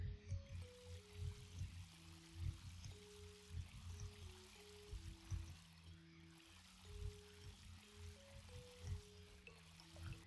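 Crops being watered in the farming game Ooblets, a soft steady trickle and pour of water running low under a looping melodic game tune, with no talking.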